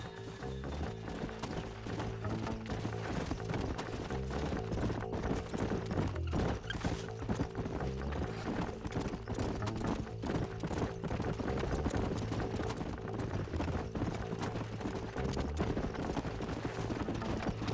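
Horse hooves clip-clop steadily in the Red Dead Redemption video game, a continuous rhythmic trot of several horses under a dense bed of game music and ambience, with no talk.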